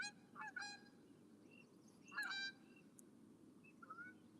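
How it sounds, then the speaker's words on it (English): Several geese honk outdoors, with a double burst of calls early and a louder cluster a little later, followed by a fainter single honk, all over a steady low background rumble. "Hear the geese?"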